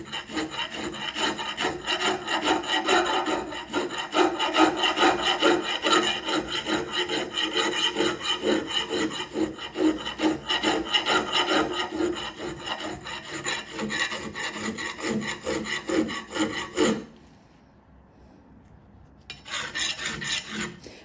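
A hand file rasps steadily on metal in continuous scraping strokes, loud and close, cutting and dragging through pitted metal, then stops briefly near the end before a few more strokes resume; no one speaks.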